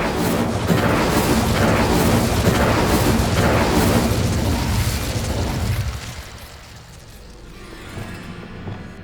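Spell explosions in the Hogwarts Legacy video game: a dense run of loud, booming magical blasts for about six seconds, then a quieter rumbling tail with softer crackles.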